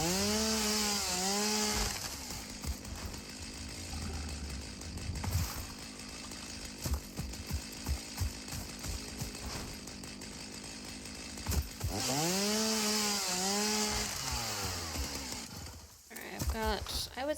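A chainsaw runs in the video game Satisfactory, a steady buzzing drone with revving surges, heard alongside game music and a voice talking over it.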